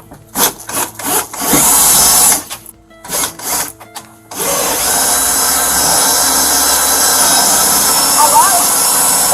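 A drill bores into a house door during an eviction: harsh, loud grinding bursts stop and start for several seconds, then settle into a steady, continuous drilling drone.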